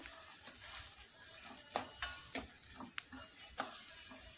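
A spoon stirs turmeric powder into spice paste in a pan while cooking Hyderabadi bagara rice: soft scraping and quiet sizzling, with several sharp clicks of the utensil against the pan, fairly faint.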